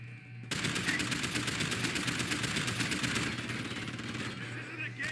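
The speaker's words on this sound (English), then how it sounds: "Gunshots!" Gunshots in the Deus Ex: Human Revolution video game, a rapid steady volley of shots starting abruptly and continuing as sustained fire, moderately loud, with game ambience and voices around.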